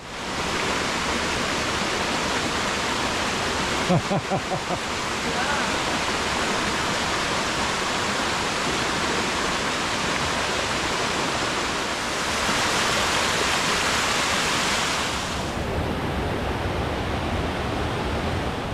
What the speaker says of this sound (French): C'est plein de petites cascades, c'est très très beau.